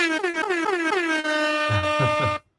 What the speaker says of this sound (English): Here we get the air horn.